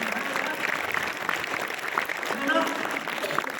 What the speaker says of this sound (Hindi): तो ताली बजाओ एक बार